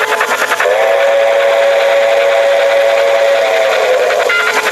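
A steam train whistle plays from a video on a screen, a long sustained tone lasting about four seconds, loud and clear over a rumbling background with no talking.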